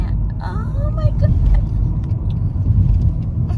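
Car driving heard from inside the cabin, a steady loud low road rumble throughout under talking voices.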